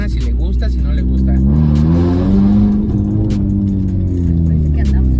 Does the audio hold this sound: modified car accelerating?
yes